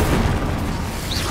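A fiery Incendio fire spell cast in a Harry Potter video game: a loud, steady, roaring whoosh with a booming, explosive body that holds for just over a second, with no talking.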